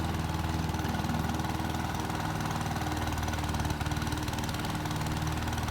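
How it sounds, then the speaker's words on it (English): Lawn mower running steadily over a freshly scarified autumn lawn, picking up loose moss and clover debris; a continuous, close engine drone with a low throbbing pulse and no speech. "I just run over it with the mower, which just picks up any debris that's sitting on the top"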